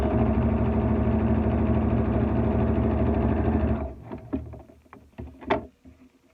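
A sewing machine stitching the folded edge of a fabric mask, a rapid even mechanical whir close by for several seconds, then stopping into scattered clicks and fabric handling.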